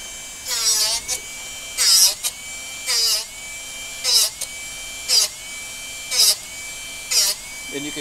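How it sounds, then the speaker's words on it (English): A Darex Drill Doctor 750X grinds and sharpens a drill bit in a series of seven short, evenly spaced whirring grinding bursts with a steady motor hum between them, heard up close. "And you can hear the grind sound get a little bit less, a little bit less."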